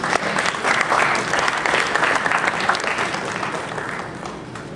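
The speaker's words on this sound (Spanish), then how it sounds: "un fuerte aplauso, por favor." Audience applause at the close of a master lecture for professionals and beginners, dense and steady clapping from a full room that stays loud throughout and fades only slightly toward the end.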